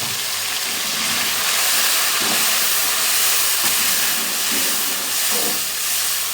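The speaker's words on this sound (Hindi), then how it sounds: "अब हम इसमें अदरक लहसुन का पेस्ट शामिल करेंगे।" Ginger garlic paste fries in a pan with golden onions for a potato chicken curry, producing a loud, steady, hissing sizzle throughout with no talk.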